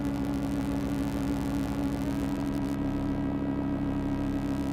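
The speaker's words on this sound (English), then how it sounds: "and the drone synth." Stylophone drone synth holding a steady, gritty droning tone with dense harmonics, loud and continuous throughout, its upper texture shifting partway through; no talking.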